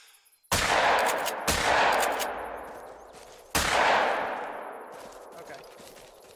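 Three heavy shotgun blasts in a video game, the first two close together and the third after a pause, each a sharp loud crack followed by a long decaying echo, with no talk over them.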